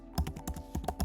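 Keys clatter on a computer keyboard while an email address is typed into a no-code chatbot form, a quick run of close, crisp taps with short uneven pauses, no voices over it.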